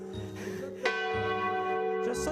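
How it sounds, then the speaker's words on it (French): Cathedral bells of Saint-Lazare in Autun ring out, a sharp clang followed by a long shimmering hum that sustains and rings on, with another strike near the end. "Je sonne les cloches."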